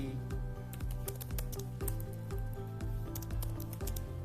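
Rapid typing on a computer keyboard, a dense run of close, crisp key clicks repeating throughout over a steady low background tone, with no voices.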